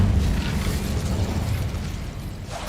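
The Incendio fire spell is cast in the video game Hogwarts Legacy: a steady, loud roaring burst of flame rumbles for a few seconds, ending in a brief sharp pop.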